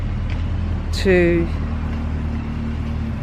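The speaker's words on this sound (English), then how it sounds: "Now it's noisy here with all the cars going past." Steady traffic of cars passing on a road near a small front garden in South Australia, a continuous low rumble and hiss throughout, with a brief louder swell midway as a voice speaks over it.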